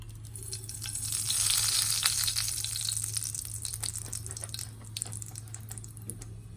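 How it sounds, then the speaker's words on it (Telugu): Tempering spices (mustard seeds, cumin and dried red chilies) sizzle in two to three tablespoons of hot oil in a kadai. A soft hiss swells and then fades into scattered crackles and pops under a low steady hum. "తాలింపు దినుసులండి"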